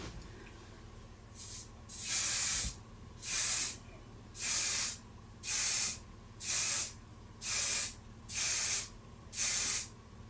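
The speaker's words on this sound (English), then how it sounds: "you can use a bit of hairspray. I usually spray it and then kind of from a distance" Hairspray hisses from an aerosol can in eight short bursts, evenly spaced about a second apart, close and crisp over a quiet room background.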